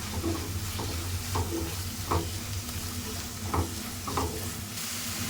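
Bottle gourd halwa sizzles in a pan as ghee is added and stirred. Soft frying crackle runs throughout, with periodic scraping stirs roughly every second, close and moderately quiet.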